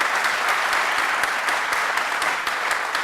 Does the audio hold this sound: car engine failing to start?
no